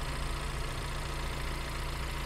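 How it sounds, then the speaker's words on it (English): A 2016 Honda CR-V LX AWD engine idles under the open hood, a steady, even hum with a fine rhythmic pulse, moderately quiet and unbroken, with no talking. "nice smooth idling engine"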